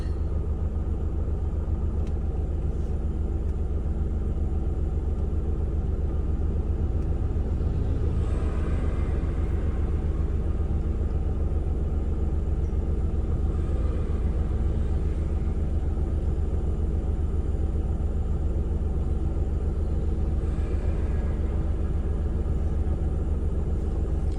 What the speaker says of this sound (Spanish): aquí empezamos a darle ruta al vehículo